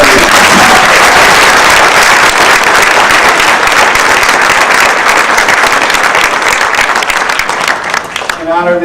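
Sustained applause from a banquet audience honoring the evening's honorees, loud and steady for about eight seconds with faint talk underneath, fading slightly at the end.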